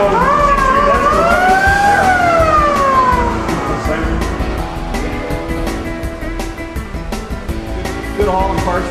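An ambulance siren wails loudly nearby, its tone sweeping up and down in long glides before settling into a steadier pattern under traffic and street noise.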